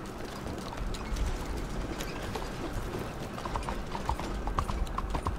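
Horse hooves clip-clop in a steady walking rhythm in Red Dead Redemption 2, close and moderately loud, with faint tack rattles and no talk.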